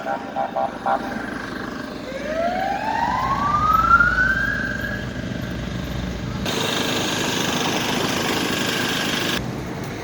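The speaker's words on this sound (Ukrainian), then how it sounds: "О, чуєте, воздушна тривога." An air raid siren in Lviv rises in pitch and then holds a long steady wail over outdoor evening street noise, loud and somewhat distant.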